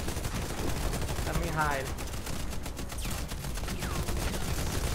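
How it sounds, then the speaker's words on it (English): Video game gunfire in a live-streamed match, repeated bursts of shots crackling through the whole stretch at moderate loudness, while a player speaks briefly over it. "I'm like getting shot at ya."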